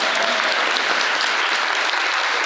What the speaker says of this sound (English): Give them a round of applause for their time.